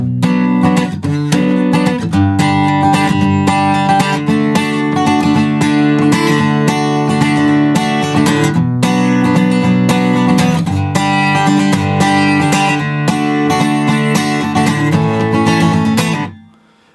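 Guitar strums the bridge of a song, a steady, full chordal passage with dense ringing strings that runs alone and evenly for about sixteen seconds before stopping abruptly.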